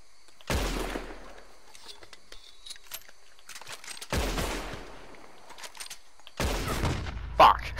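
Gunfire in Red Dead Redemption 2 Online, three separate loud shots spaced a few seconds apart, each with a sharp crack and long fading tail, and a faint voice between them.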